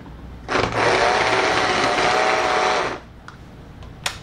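A vintage DC model locomotive motor buzzes steadily under power for about two and a half seconds, then cuts out, followed by a couple of faint clicks.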